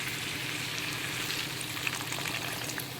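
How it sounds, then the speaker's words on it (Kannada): Water poured into a pan of drumstick curry masala cooking over a low to medium flame, giving a loud, continuous sizzle and bubbling hiss with no voices. "ಇದು ಸ್ವಲ್ಪ ನೀರು ಹಾಕ್ತೀನಿ ನಾನು"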